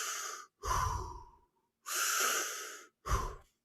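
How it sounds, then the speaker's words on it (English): Audible breaths drawn in and pushed out against resistance, as if climbing at altitude on Mount Everest, in four close, loud bursts: two long and two short, with silent gaps between them. "So I start breathing like that with sound. Not like forcefully, but just with a sound, with a resistance, in and out."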